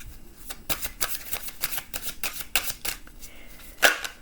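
Tarot cards are shuffled by hand in a run of quick riffling bursts, crisp and close, each pass a short papery flutter with brief pauses between.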